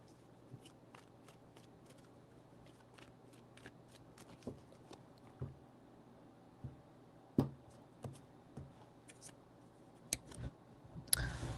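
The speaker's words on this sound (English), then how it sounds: "3 shuffles." Tarot cards being shuffled in short bursts of crisp riffles and slaps, a dozen or so soft, close snaps scattered irregularly over a quiet room background.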